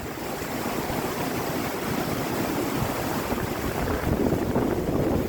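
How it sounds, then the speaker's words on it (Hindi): A fast-flowing mountain river on a Karakoram trek roars steadily and loudly up close, a dense continuous rush of water with a little wind buffeting the microphone and no voices. "देखे जरा कितनी तेज नदी है।"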